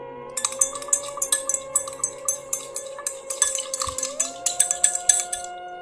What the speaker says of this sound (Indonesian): Suara benturan antara sendok dan gelas terdengar memecah keheningan